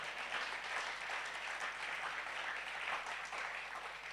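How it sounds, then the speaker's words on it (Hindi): Steady applause from an audience at the closing ceremony of a Jain religious study camp, a dense, even wash of clapping that holds for the whole stretch without voices on top. "आपके लिए भी ताली बजाओ"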